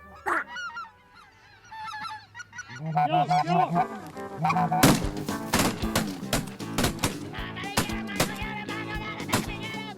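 A large flock of specklebelly geese circling and honking repeatedly, many overlapping calls building from scattered cries into a dense, loud chorus with sharp bursts throughout.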